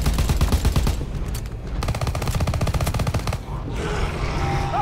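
Rapid automatic gunfire rattles almost nonstop at a video game boss, loud and dense bursts with brief lulls between volleys.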